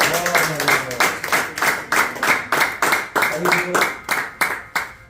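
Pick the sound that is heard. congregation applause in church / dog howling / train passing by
congregation applause in church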